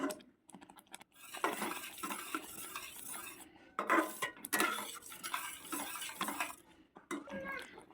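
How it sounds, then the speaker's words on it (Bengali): A spatula scrapes and stirs boiled moong dal with grated ginger in a pan, irregular clinking and scraping bursts with brief pauses, close and fairly clear. "এবার এটাকে আমি নেড়ে নেড়ে অনেকক্ষণ ধরে একদম শুকনো করে ফেলবো"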